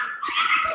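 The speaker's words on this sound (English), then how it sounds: "Someone has a dog in the background" A dog in the background of an online lecture gives a brief, muffled whimpering bark, faint and a little distant, with no speech over it.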